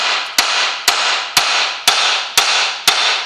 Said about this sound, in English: I'm going to hit the side, just a few little taps.